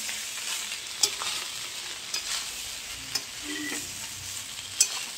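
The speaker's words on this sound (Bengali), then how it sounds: "দিয়ে এবার এটাকে ভালো করে নাড়াবো।" Cooked rice with ghee and sugar being stirred in a pan, a soft continuous sizzle with a few sharp scrapes and taps of the spoon against the pan, fairly quiet and without talk.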